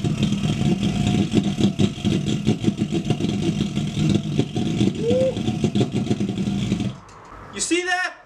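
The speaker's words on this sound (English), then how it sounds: "The engine was running." A 3D printed ThermoJet pulsejet engine runs with a rough, rapid pulsing roar at low frequency for several seconds, then cuts out, leaving a brief quieter stretch before a voice speaks excitedly.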